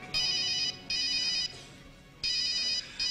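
A telephone ringtone rings three times in short, bright bursts with brief gaps between them, fairly faint and heard alone.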